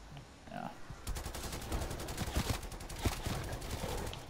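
Sustained rapid gunfire from a player's weapon in Call of Duty Cold War Zombies, a steady stream of close automatic shots with a few heavier thumps, fairly quiet overall.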